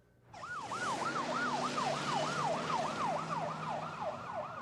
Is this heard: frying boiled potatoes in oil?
no